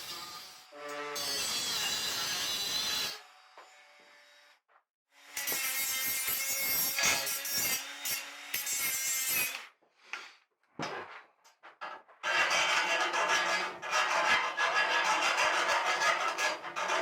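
Bimini frame legs on a cruising sailboat being trimmed: bursts of rough rasping sawing and filing strokes, loud and close, separated by short pauses and sporadic knocks, with no talk.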